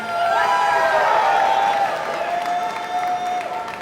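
A convention crowd at the Super Smash Con 2018 Rivals of Aether panel cheers and applauds loudly. The sustained burst of clapping and shouts begins at full strength and fades slightly toward the end.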